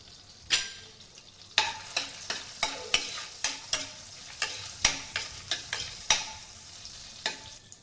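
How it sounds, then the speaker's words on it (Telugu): Whole spices, three cloves, two cinnamon sticks and two cardamom pods, frying in a pan, with a dozen or so sharp, close stirring clacks spaced at a steady pace over a soft sizzle. "ఇప్పుడు ఇందులోకి మూడు లవంగాలు రెండు దాల్చిన చెక్క రెండు యాలకులు వేసుకుని ఫ్రై చేసుకుందాం"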